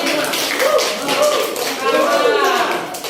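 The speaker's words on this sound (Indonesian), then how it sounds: "tepuk tangan lagi." Students in a classroom clap their hands in a quick, brief round, the claps blending into a patter under overlapping voices.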